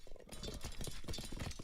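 Horse hooves in a strategy video game, a quick clattering clip-clop of several horses moving together, brief and faint.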